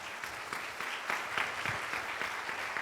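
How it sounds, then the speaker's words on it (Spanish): An audience applauds at a lecture on Latin American art: steady, dense clapping from a crowd, moderately soft and continuous, with no talk over it. "Un aplauso."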